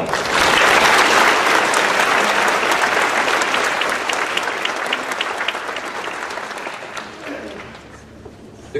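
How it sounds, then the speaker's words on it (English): Audience applause at a 2019 Christian Academy of Indiana graduation ceremony, a dense roomful of clapping that starts loud and full, then gradually thins and fades over several seconds. "One more round of applause."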